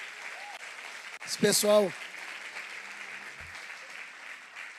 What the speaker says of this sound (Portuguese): Dê um aplauso ao Senhor pela vida dessa equipe toda, gente.